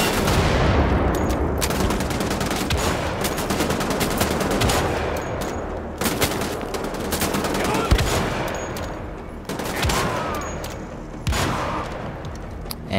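Rapid automatic gunfire rattles through a firefight in the video game Wolfenstein: The Old Blood, dense and continuous with sharp individual shots and a few heavier blasts along the way.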